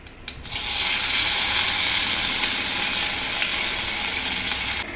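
Loud, sudden burst of sizzling as curry leaves hit hot coconut oil, a close hiss that holds strong and steady for several seconds.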